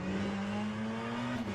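An LMDH prototype race car in the Le Mans Ultimate sim racing game at Monza holds a steady, thin engine drone at constant pitch, with no voices over it.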